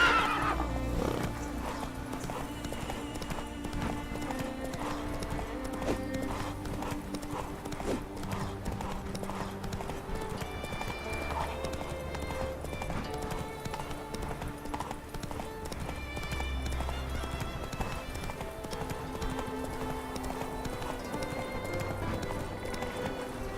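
Roach, the horse from the video game The Witcher 3, trots with a steady, close clip-clop of hooves that runs the whole way, with whinnies breaking in over layered game music.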